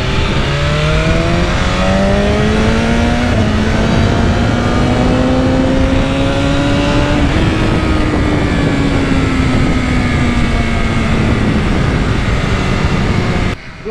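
1000cc BMW and Yamaha sport motorcycles run on a race track, engines revving and climbing through the gears with rising and falling whines, a loud, continuous roar close by.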